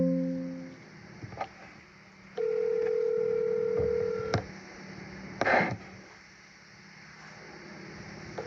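A telephone call goes out to a voicemail line, with faint recorded dial and ringing tones, a sustained electronic tone and a few short clicks and beeps, quiet and thin.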